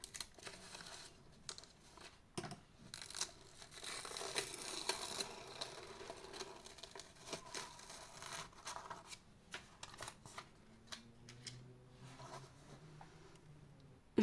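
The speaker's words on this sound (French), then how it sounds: "donc je vais enlever les scotch." Crinkly, crackling rustles and sharp little rips repeat close by as adhesive tape is peeled off after heat pressing, with no talking.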